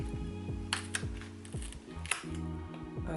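A few sharp clicks and snips of scissors cutting a Monstera Albo stem, close and distinct, with a faint mechanical rattle between the cuts and no talking.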